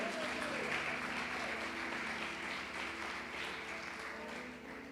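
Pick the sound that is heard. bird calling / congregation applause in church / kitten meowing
congregation applause in church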